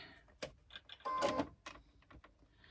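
A sewing machine top stitching down a folded fabric edge for a sling, giving short, quiet mechanical bursts with one longer whirring run in the middle.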